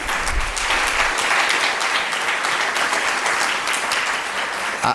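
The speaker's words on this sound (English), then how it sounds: "I see somebody starting to clap. I will start to clap." An audience at a community meeting about reimagining a village center claps loudly and continuously, a thick, even roar of many hands filling the whole stretch without talk.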